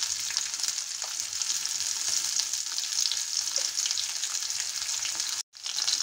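Chana dal and dried red chillies fry in hot oil, a dense, steady sizzle heard up close, with light stirring and a brief break near the end.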